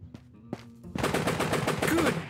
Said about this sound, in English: Somebody going crazy with this SKS over here.